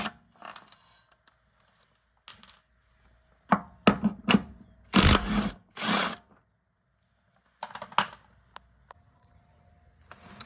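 Seventeen-millimetre top hat bolts come off a BC Racing coilover strut from a 2022 Corolla Apex, with short bursts of tool whirring and clattering metal separated by quiet gaps, close and fairly loud.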